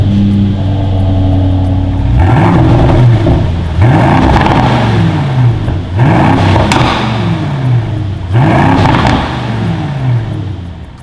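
A 2021-style Aston Martin DBX SUV engine revs repeatedly, loud and close: a deep sustained idle rises in several sharp swooping blips spaced about two seconds apart, each falling back to a rumbling idle.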